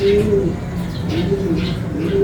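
Racing pigeons coo in repeated soft, low rolling calls close by, with a voice talking intermittently among them.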